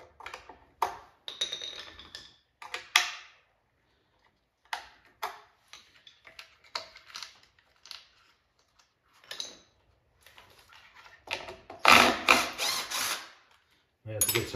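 Screws are being removed from a Wizard of Wor arcade cabinet, giving scattered short clicks and ratcheting turns separated by quiet gaps, with a louder burst of scraping near the end.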